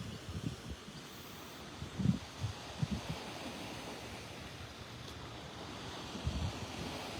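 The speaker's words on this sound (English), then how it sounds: "pardon the wind noise, but that's part of the deal." Gusty wind buffets a microphone on Vanderbilt Beach with steady surf rumbling underneath, rising in a few louder low thumps and bursts throughout, no voices.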